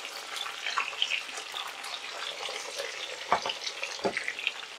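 Fish frying in hot oil in a first batch gives a steady close sizzle with crackling spits, plus a couple of brief knocks or pan touches near the end; no talking.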